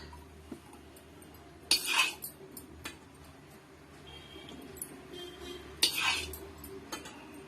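A cooking pot set down on a stove with metallic clinks and clatter, two sharper clanks standing out amid quieter kitchen handling in a home kitchen while making plate idli dosa.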